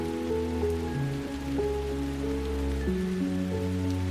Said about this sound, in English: Soon the rain becomes more steady and begins falling harder. The droplets get bigger and come faster.